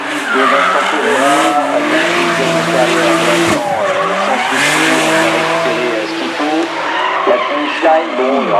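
Drift car sliding through a corner at Calmont during a French drift championship, tires squealing in long wavering screeches over a revving engine, loud and close, with an announcer commentating over it.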